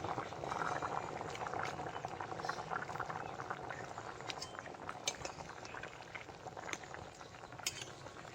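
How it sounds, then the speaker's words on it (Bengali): Gravy of gule fish and taro curry bubbling at a low, steady boil, soft continuous burbling with occasional faint clinks of a utensil, quiet and close. "ঝোলটা ফুটে উঠেছে, এবার গুলে মাছগুলো দিয়ে আর একটু তরকারিটা ফুটিয়ে নেব।"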